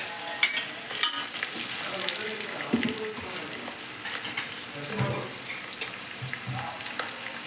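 Peeled garlic and turmeric fry in a pan for a goat tripe curry with gongura, giving a steady sizzle. Irregular stirring clatters and watery splashes sound up close.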